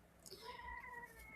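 A pet cat meows indoors, two or three rising, tonal cries close by over a quiet room, with no talking while it calls.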